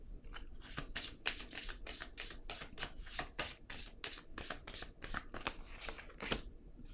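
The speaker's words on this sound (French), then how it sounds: "Je vais piger une carte sur elle." A deck of cards shuffled for a card reading, a close, quiet run of rapid riffling flicks in quick succession, alone without talking.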